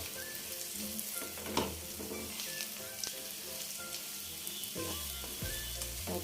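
Fried cauliflower pieces are stir-fried with chilli powder and spice masala in a pan, a steady close sizzle and frying hiss running throughout with scraping stirs and clanks from a spoon, plus a louder knock near the end.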